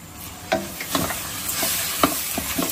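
Chicken masala sautéing in a pan for a home-style Tamil chicken curry, a steady close sizzle broken by several sharp scraping stirs of a spoon against the pan, with no talking.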